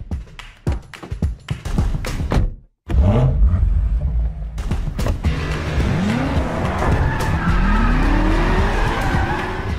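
A red BMW M5 F90 driving hard, with rapid loud bursts of engine and tire noise, a brief cut to near silence, then a sustained squealing skid with rising and falling tire squeal over the engine roar.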